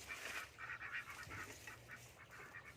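White Pekin ducks on a farm plot planted with palms quack and honk in a busy, overlapping flock chorus. The calls are faint and at a moderate distance, and no voices are heard.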